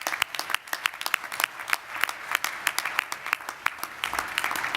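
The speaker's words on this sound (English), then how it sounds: "I think he warrants a round of applause from all of us." At an annual business session, people applaud a former Kaysville mayor. The clapping starts thin and scattered with sharp individual claps and builds into fuller, steady applause from a modest-sized crowd.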